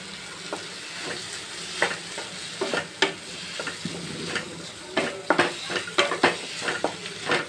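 Crushed tomatoes sizzle steadily in a hot pan for chana masala while a spoon stirs them, adding frequent sharp scrapes and clinks against the pan over the continuous frying hiss, close and without talk.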